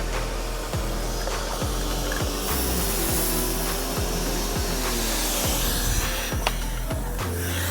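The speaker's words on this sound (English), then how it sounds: "then you can turn on your pressure washer" A steady, loud hiss of a pressure washer spraying a fan pattern on a patio, running continuously with a low motor hum and occasional faint clicks underneath.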